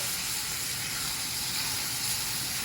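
Food browns in a pan for Spanish tripe stew (callos a la madrileña), giving a steady, dense sizzling hiss that is close and continuous, with no talking.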